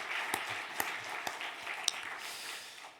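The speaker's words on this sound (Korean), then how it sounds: "격려의 박수 한번 보내시겠습니다" A church congregation at a New Year's Eve dawn service applauding its ministers and worship team, soft steady clapping from many hands with a few sharper claps standing out, fading slightly at the end.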